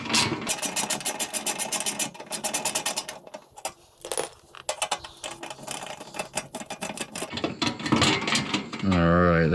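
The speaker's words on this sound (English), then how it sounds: "I highly recommend not smacking your bike with your socket wrench while you're loosening up these bolts." Close, rapid ratcheting from a socket wrench loosening bolts on a Triumph Rocket 3 comes in repeated bursts with short pauses, and a voice speaks briefly near the end.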